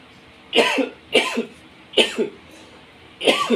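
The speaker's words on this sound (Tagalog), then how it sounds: "Medyo may ubo kasi ko kahapon pa." Four distinct coughs spaced about half a second to a second apart, close and fairly loud, with quiet gaps between them.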